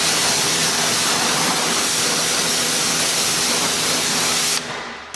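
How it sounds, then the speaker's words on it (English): A pressure-washer spray hisses loud and steady as it rinses a matte black car wheel and tire, a continuous close blast that cuts off abruptly near the end. "basically just kind of rinse off everything that's sitting on the outside of the wheel and the tire"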